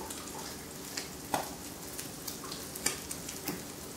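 Crab cakes frying in a hot pan give a steady close sizzle with scattered pops and crackles, and no voices over it.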